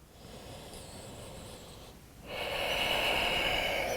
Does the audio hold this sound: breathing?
yes